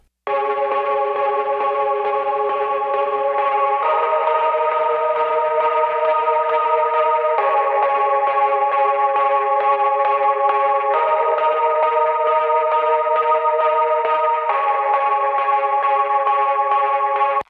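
A buzzy Serum synth with drive turned up plays a repeating sequence of sustained chords, shifting every few seconds, steady and fairly loud with a gritty edge.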